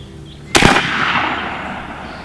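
A BinTac B&W S45 semi-auto shotgun fires a steel core slug: one loud, close blast that rings out and fades over about two seconds. No talking.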